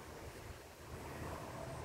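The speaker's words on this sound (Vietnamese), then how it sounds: "gió này thuộc về gió bão các bạn ơi" Strong stormy wind gusts buffet the microphone while a kite is flown outdoors, a steady roaring rush with low rumbling that swells slightly in the second half, no voices.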